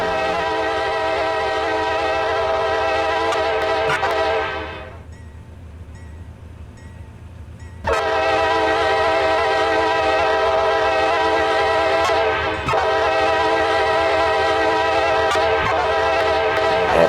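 A train in the Roblox video game rumbles past with a loud, sustained horn blaring, cutting out briefly before sounding again over the steady rolling noise.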